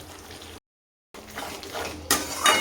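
Spices for a paneer kofta curry being sautéed in a pan, with metallic scraping and clanks of a spatula against the pan over a low sizzle, broken by a brief gap of silence.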